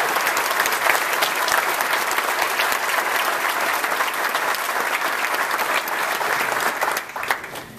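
A large audience at the Winter 2013 Globe University Madison graduation ceremony gives a long, sustained round of applause, dense and even throughout before thinning slightly near the end.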